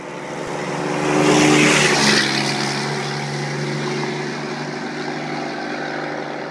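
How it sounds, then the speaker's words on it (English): A diesel truck's turbo spools up in a rising whistle and roar that peaks after a second, then settles into a sustained, loud engine drone. "keep your turbo spooling"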